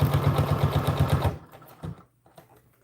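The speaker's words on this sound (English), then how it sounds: "Make sure we're not sewing any part of the dress to itself." A sewing machine stitches an American Girl doll dress in a quick, even rhythm of needle strokes, then slows and stops partway through, leaving quiet handling sounds.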